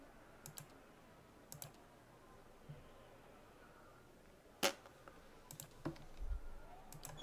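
Sparse mouse clicks while playing Pillars of Eternity, single sharp clicks spaced irregularly, with one louder click midway, quiet and close.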